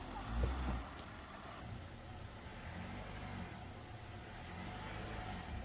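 An off-road vehicle engine on a trail ride idles and revs gently in a low rumble under faint background noise, with a brief louder thump near the start.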